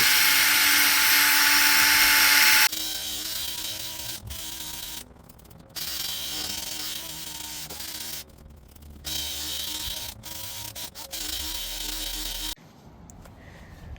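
A drill wet-sanding a car headlight lens with a 3M headlight restoration kit, whirring in steady bursts that stop and start several times, close and fairly loud.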